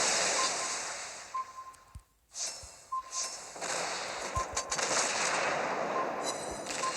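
In the naval video game World of Warships Blitz, the battleship Bismarck fires on the player's ship: a few heavy booming shots over a constant roar of sea and engine noise.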